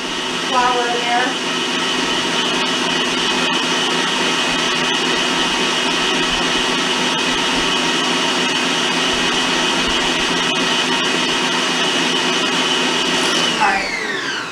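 An electric mixer beater whirs loudly and steadily through carrot cake batter, a continuous high motorized drone that winds up at the start and spins down near the end, with no speech over it.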